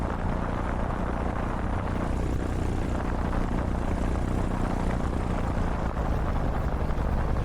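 A paramotor engine drones steadily and loudly through flight, a continuous propeller buzz with no pauses and no voices.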